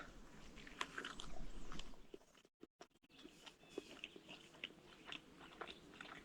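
Someone eating a scrambled egg and cheese wrap with German salami and shredded cheese at a canoe-route campsite: close, repeated bites and chewing crunches, with soft wet mouth sounds and a brief near-silent pause midway.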